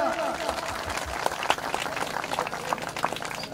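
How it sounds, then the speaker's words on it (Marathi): An audience at a clan family gathering in Kasa Waghadi claps in a sustained, uneven burst of many hands, while a voice talks over the applause. "आपल्या आईसाठी जोरदार टाळा एकदा."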